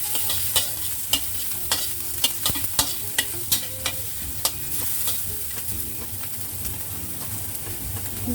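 Garlic and onion fry in a pan for egg fried rice, a steady sizzle running throughout with repeated sharp scrapes and clacks of a spatula stirring at an uneven rhythm.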